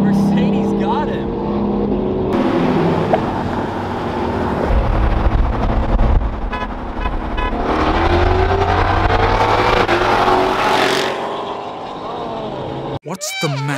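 A Mercedes and a Nissan GTR race side by side, their engines revving and roaring past over steady road and wind rumble, with people talking over the noise.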